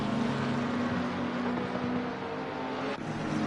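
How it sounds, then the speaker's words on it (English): An Audi race car in the Assetto Corsa Competizione game at Brands Hatch gives a steady, harsh engine drone with a sustained low growl and a short shift-like break near the end. "That Audi sounds nasty, Dalton."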